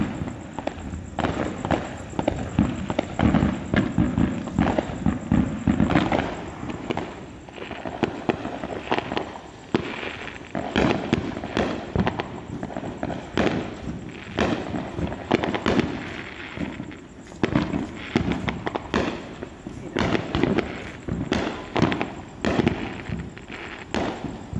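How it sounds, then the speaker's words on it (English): Fireworks bursting across Los Angeles, seen from a drone overhead: a dense, nonstop barrage of loud pops, cracks and thuds that overlap for the whole stretch, with no pauses and no talking. "a video that was shot from a drone over what actually happened after the banning of fireworks in Los Angeles"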